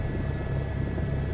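In the Farming Simulator 24 game, a helicopter gives a steady, loud, droning rotor and engine hum with a constant whine, unbroken and without voices.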